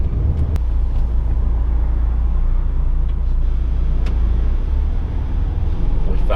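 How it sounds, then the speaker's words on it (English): London road traffic rumbles steadily from inside a manual DAF truck stuck at roadworks near Victoria. A deep, continuous engine and road drone is broken by a few faint clicks and knocks. "We found the traffic."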